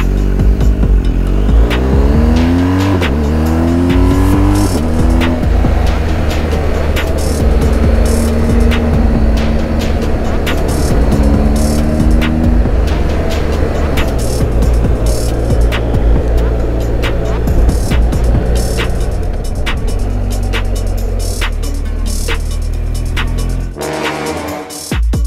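A Citroën GSA accelerates hard through first and second gear, its engine note climbing loud and close, dropping at the gear change and climbing again for most of the run before easing off at the end.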